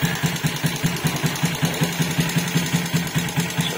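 A Suzuki Raider J115 Fi motorcycle engine fitted with a 57mm bore idles close by, pulsing in a steady, even rhythm of rapid low thumps, with no one talking.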